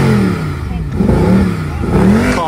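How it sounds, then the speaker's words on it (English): A 6.2 V8 car engine revs at a car meet in Essex, loud and close, rising and falling in pitch through repeated throttle blips. "Oh, more revs."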